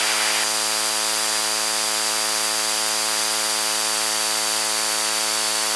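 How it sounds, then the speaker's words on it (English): Steady tonal hum with many stacked harmonics, like a gear-extension motor or aircraft drone, holds loud and even throughout inside the cockpit of a Beechcraft Baron 58 piston twin on approach, with a faint high whine above it. "Gear down."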